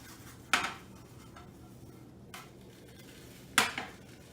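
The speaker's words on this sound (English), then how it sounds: "Now we're going to flip them back and then add the cheese." Metal spatula clacks against a hot grill twice, flipping over-easy eggs for a breakfast sandwich, two sharp scrapes well apart over a quiet background.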